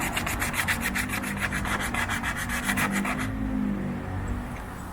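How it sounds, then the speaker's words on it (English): Steady abrasive rubbing of sandpaper across an Austin Allegro car body panel, a rhythmic back-and-forth rasp that stops partway, leaving a low hum behind. "Most of the sanding's done now."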